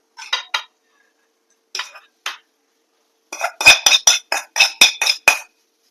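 Metal utensils scrape and clink against a pan while scooping out potato stuffing, in short bursts with pauses between. The final stretch brings a fast run of bright, loud, close clinks.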